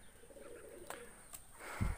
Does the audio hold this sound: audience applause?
no